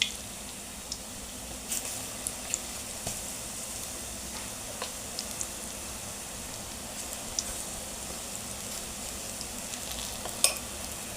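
Onion bhaji batter hits hot oil in a pan, producing a steady, soft frying sizzle with occasional small pops and crackles throughout, close and fairly quiet, with no talking.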